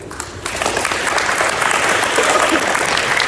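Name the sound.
audience applauding parents at school awards ceremony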